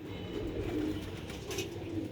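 Sialkoti pigeons cooing close by in soft, low rolling phrases, a couple of throaty coos repeating over a quiet background.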